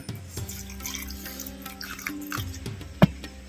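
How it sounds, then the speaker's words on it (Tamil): Water poured into a mixer jar of ground coconut masala for goat leg paya, a soft, steady trickle close by with a single sharp clunk near the end and no talking. "தேங்காய் மசாலா நல்லா அரைப்படுறதுக்கு பச்சை தண்ணி கொஞ்சமாக சேர்த்துக்குவோம்"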